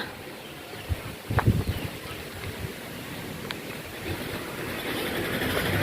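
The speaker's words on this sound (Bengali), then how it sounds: "বৃষ্টি এবার জোরে চলে আসছে।" Heavy rain pours down outside a rural household, a steady broadband wash that swells louder toward the end, with a few dull knocks early on and no voices.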